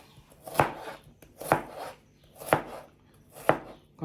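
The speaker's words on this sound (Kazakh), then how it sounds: "Енді осындай бір жуаны алып" An onion being finely chopped with a knife on a cutting board, four evenly spaced, crisp knife strikes about a second apart, close and fairly quiet, with no voices.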